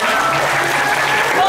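Audience applauding at a Balinese Drama Gong performance in Denpasar, a steady wash of clapping that holds evenly for the whole moment with a voice faintly underneath.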